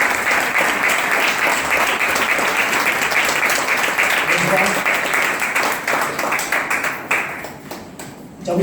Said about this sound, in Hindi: आइए ताली बजाकर प्रभु की महिमा करेंगे।